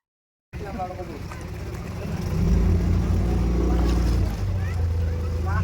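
A motorboat docks at a jetty at Samprani Kodi, its low engine rumble growing louder and heavier after a couple of seconds and holding steady close by, with faint voices in the background.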